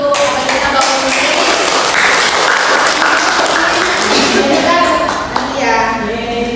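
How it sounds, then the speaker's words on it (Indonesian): An audience applauds for a government minister, a steady, loud blanket of clapping running throughout while a voice talks over it. "Beri tepuk tangan dulu untuk pemerintah Bapak Menteri"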